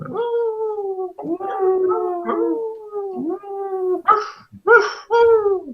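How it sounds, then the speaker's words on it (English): Wolves in a forest howl and bark in overlapping, wavering calls, with several rising and falling howls followed by sharper yipping bursts toward the end, fairly loud and continuous. "you hear some other like barking and howling further down from the forest"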